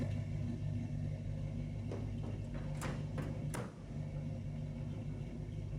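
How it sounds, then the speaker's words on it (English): A low-mileage 1963 Chevy C10 truck idles quietly, its exhaust giving a steady, faint low rumble with a few sharp clicks and knocks over the top. "Exhaust sounds great."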